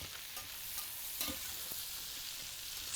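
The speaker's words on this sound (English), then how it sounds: "Stir that all together." Cabbage being stirred in bacon drippings inside an Instant Pot, with a constant quiet sizzling hiss and occasional faint scrapes from the spoon. No one speaks.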